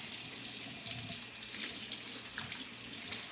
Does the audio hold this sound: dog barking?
no